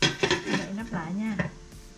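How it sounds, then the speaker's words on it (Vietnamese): A metal lid clatters onto a cooking pot in a home kitchen, several close, bright clinks and scrapes in quick succession over about two seconds. "Đậy nắp lại nha."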